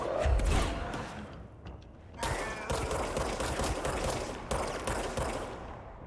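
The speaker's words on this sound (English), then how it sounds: "there are people shooting at us now" Enemy gunfire in the video game Control: clusters of rapid shots rattle out in bursts, with a short lull in the middle and then renewed firing.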